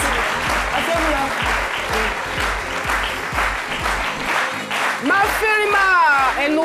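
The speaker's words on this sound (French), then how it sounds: "Merci de la recevoir avec des applaudissements." A television studio audience applauds to welcome a guest onto a French talk show set, steady dense clapping throughout with a host's voice cutting in over the final seconds.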